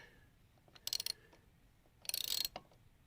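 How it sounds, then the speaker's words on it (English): Cam sprocket bolt being tightened on a 2023 Honda CB125F, giving two short bursts of close metallic ratcheting clicks separated by a pause, fairly quiet, with no talk. "Let's have another crack at tightening it down. Slow and steady."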